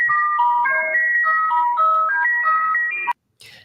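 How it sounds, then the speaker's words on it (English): A numbers station's music box melody, processed to sound like an ice cream truck jingle, plays a bright, steady chiming tune for about three seconds before cutting off abruptly, followed by a short noisy burst. "It's a music box, and they ran it through a couple of different processors to make it sound like an ice cream truck."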